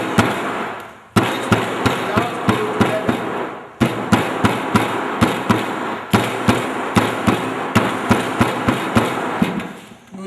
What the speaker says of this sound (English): You will hammer the edge.